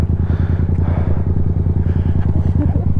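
A motorcycle engine idles nearby with a steady, throbbing low rumble and faint mechanical clatter while a new rider practises on it.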